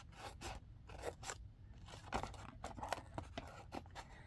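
Scissors trim junk journal paper material in a run of quick close snips, about a dozen crisp cuts in an uneven rhythm, fairly quiet with no talk.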